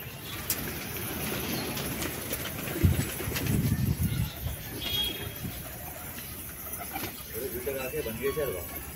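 Pigeons at a pigeon keeper's loft in Hyderabad give soft cooing and a brief flurry of wingbeats as the flock lifts off, while low voices murmur nearby.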